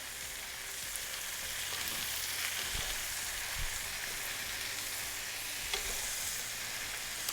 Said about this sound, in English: I am going to add a little bit of soy sauce to the veggies so they can soak up the flavor.